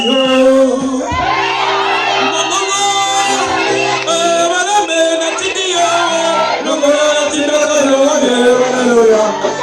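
A church congregation in a Rwandan worship service bursts into loud, sustained cheering, whooping and shouting with singing tones mixed in, filling the whole stretch at close range.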